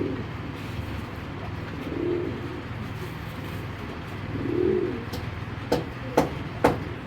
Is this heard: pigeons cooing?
yes